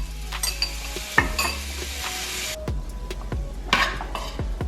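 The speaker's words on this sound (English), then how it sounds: "Now I'm gonna add some mushrooms that I sauteed with some onions." Sauteed mushrooms and onions scraped and stirred into a hot pan with a utensil, bringing a few clattering knocks against the cookware over a soft sizzle, close and without talk.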